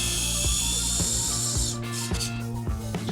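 A power driver sets 4-inch fasteners into a stair post, whirring loudly with repeated ratcheting clicks and a strained, slowing motor close by.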